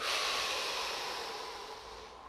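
A single long breath during an exercise routine, a close, airy rush of air that starts strong and slowly fades over about two seconds, with no talking.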